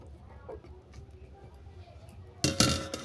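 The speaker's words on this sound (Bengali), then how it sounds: "এটাকে এবার নেড়ে চেড়ে আমি একটা ডিশ ঢেকে দেবো" A cooking pan holding fish curry with drumsticks and peeled peas is covered with a dish, a sudden bright clinking clatter near the end after a quiet stretch of faint kitchen sounds.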